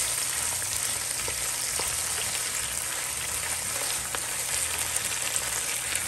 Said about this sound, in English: Now I'm going to add the saltfish and then allow this to saute for another 2 minutes.